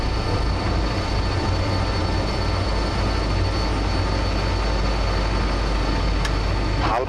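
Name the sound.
Albanian Airlines BAe 146-300 airliner climbing after takeoff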